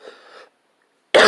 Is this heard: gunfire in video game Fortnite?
no